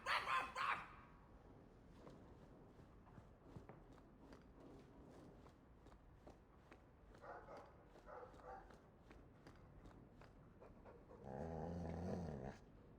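A dog in the video game Dragon Age 2 gives a sharp bark at the start, then pants quietly in uneven bursts with soft shuffling, and lets out a louder burst of panting near the end.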